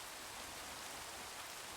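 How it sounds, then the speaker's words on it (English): Heavy storm rain in a video game pours down as a dense, steady hiss of drops washing over the environment, loud and unbroken throughout with no other sounds. "you want it to feel like the rain is actually, you know, hitting and washing over the environment with some force"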